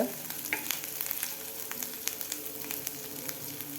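Masala paste frying in a pan, a steady close sizzle with sharp crackles and pops and occasional stirring scrapes, no talking over it.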